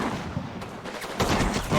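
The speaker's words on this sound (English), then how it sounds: "Did you see that little explosion? I'm pretty sure that was from my 37mm mountain gun." A small explosion from a 37mm mountain gun in the Combat Mission wargame, a short burst of noisy blasts with a sharper crack near the end, close and moderately loud.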